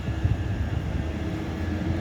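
A train, a class 323, waiting at a station platform, heard as a steady low rumble and hum that stays even throughout, with no talking.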